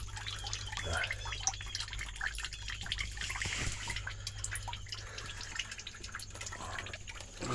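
Fluid drains steadily from a 2007 Honda CR-V during an oil and fluid change, a continuous close trickle and patter of liquid with dense dripping texture and a low steady hum underneath, no talk.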